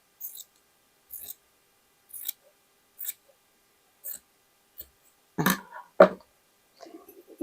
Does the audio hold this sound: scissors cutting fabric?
yes